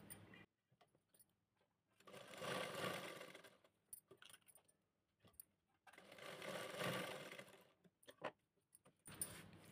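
A sewing machine runs in two bursts of stitching along the shoulder seam of a small girl's petticoat, each burst lasting a couple of seconds, with quiet handling clicks and rustles of fabric between them.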